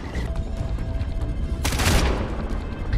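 Gunfire rattles in the Far Cry 4 video game as a steady mix of shots and rumble, with a louder, brighter burst of fire near the middle of the short stretch.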